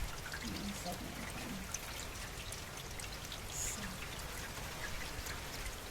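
Rain falling outside a window on a rainy day in Germany, a steady soft patter with occasional drips, heard with a voice talking quietly.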